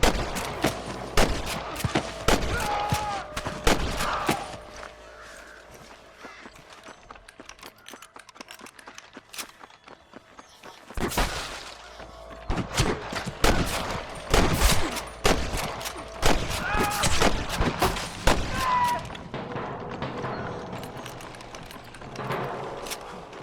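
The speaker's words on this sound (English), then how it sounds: "I can hear more gunshots." Gunfire in the Red Dead Redemption 2 video game: irregular volleys of sharp cracks, some clustered in rapid bursts and others spaced apart, with a brief lull before the shooting picks up again.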